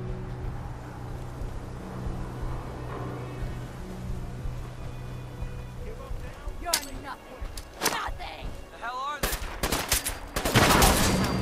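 Gunfire in the video game Fallout 4: a low rumbling battle backdrop gives way to sharp close shots and rapid bursts that grow denser toward the end, with voices calling out between them.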